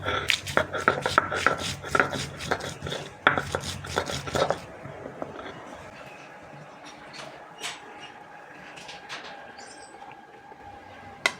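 Fried dried red chillies are ground by hand in a Bangladeshi kitchen, giving a quick run of sharp, loud pounding and scraping strikes that stops abruptly, followed by faint intermittent clinks and rustles.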